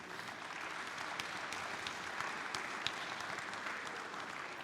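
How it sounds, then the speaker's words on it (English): A conference audience at a congress applauds steadily, with dense close clapping holding at an even level throughout and no voices standing out. "Ladies and gentlemen, once again, can we give a round of applause for Patrice?"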